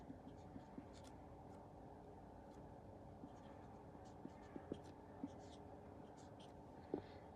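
A pen scratches faintly on paper while a subtraction is worked out in a maths lesson, giving soft irregular strokes beneath a low, quiet murmur of voice.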